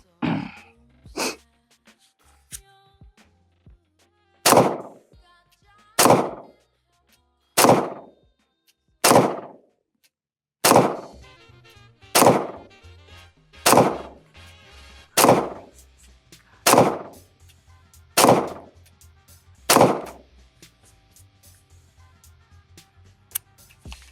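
A CZ P09 Nocturne pistol fires about a dozen loud, sharp single shots outdoors at a steady, fairly quick pace, each crack followed by a brief echo, with a couple of isolated shots before the string.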